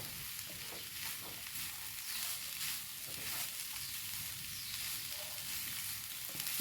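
A bottle gourd and prawn thoran is stirred in a frying pan, giving a steady sizzle with soft scraping of the spoon through the mixture, close and continuous with no talking.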